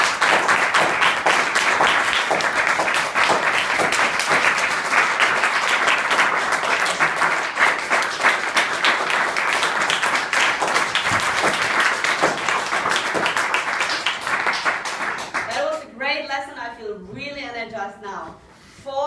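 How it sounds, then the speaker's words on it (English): An audience at a club meeting bursts into sustained applause, dense close clapping that fills most of the stretch before fading out, followed by a voice speaking. "Give yourself an energizing round of applause."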